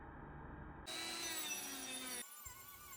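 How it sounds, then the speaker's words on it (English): A die grinder fitted with a cupper attachment carves into a block of alabaster, a steady high-pitched whine grinding against the stone that cuts off briefly near the end before resuming at a lower level, close and loud with no talk. "started removing material from the top using this cupper attachment with the die"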